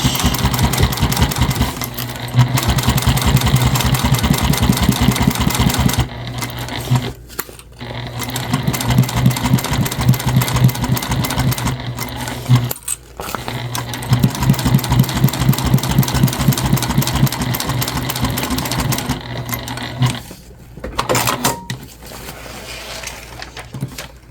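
A sewing machine stitches a convertible bag, running loud and steady in long rapid bursts that stop briefly several times. No voices are heard.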